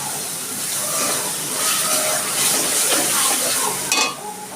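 Spice masala with turmeric sizzling in mustard oil in a pan for a royal-style egg curry, a loud, continuous sizzle with stirring scrapes that drops off sharply near the end.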